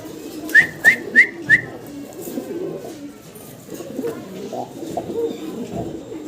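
Pigeons at a pigeon seller's stall give four quick, evenly spaced whistling calls near the start, followed by soft, low cooing that carries on through the rest of the clip.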